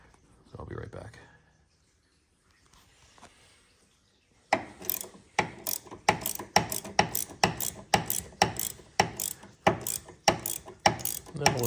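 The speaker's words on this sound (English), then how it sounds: "just use the wrench to tighten that down the rest of the way" A wrench ratchets in rapid, evenly spaced clicks while tightening the nut on a Bilstein shock for a Chrysler Crossfire, close and crisp, after a few seconds of quieter handling noise.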